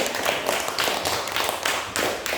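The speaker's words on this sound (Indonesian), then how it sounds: "Tepuk tangan dulu untuk kelompok 1" Classroom applause for a group of students, a short burst of many hands clapping in a steady dense patter, close and fairly loud.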